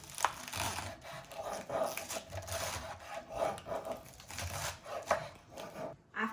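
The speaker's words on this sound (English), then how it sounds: "we're going to lay them on the board on top of each other and cut them in strips" A knife slices stacked lettuce leaves into strips on a wooden board, producing quiet, repeated crunchy cuts and scraping taps at an uneven rhythm, faint and close with no talking.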